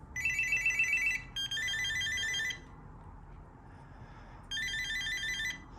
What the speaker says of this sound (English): I really like this ringtone.